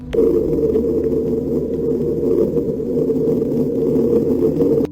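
A steady, droning low hum attributed to the Schumann resonance, Earth's 7.83 Hz frequency picked up by devices, sounds as a dense, buzzing tone with fluttering texture, constant in loudness from start to finish without any voices.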